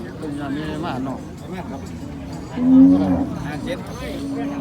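Cattle at a livestock market in Ubon Ratchathani, Thailand, with a brief low moo rising near the middle among crowded animals, under steady nearby talk and market bustle.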